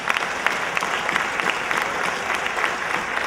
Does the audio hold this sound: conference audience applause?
yes